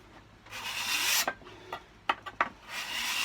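Rough, rasping scrapes of a cabinet scraper removing excess finish from a guitar, pulled along the grain in long strokes with a few short quick passes in between, close and fairly loud.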